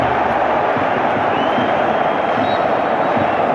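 Football stadium crowd at a humid, rainy Barcelona versus Inter Champions League semifinal roars in a dense, steady wash of noise, broad and continuous with no break, swelling as the crowd is whipped up.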